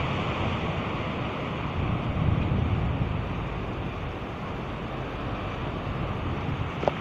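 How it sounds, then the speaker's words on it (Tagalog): Big Pacific Ocean waves break against a rock formation in Northern Samar, Philippines, a steady close roar of surf blended with wind noise, swelling slightly midway and continuing without pause. "this is the Pacific Ocean, the big waves of Pacific Ocean"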